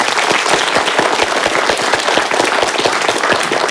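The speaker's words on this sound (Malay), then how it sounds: "Tepukan buat mereka." A crowd applauds steadily and close by at a talk, with dense clapping that holds even and loud from start to end and no voices over it.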